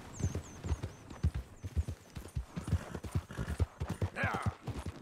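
Horse hooves clip-clopping in Red Dead Redemption 2, a steady walking rhythm of close, distinct hoof strikes continuing throughout, with faint bird calls and a brief snort or whinny near the end.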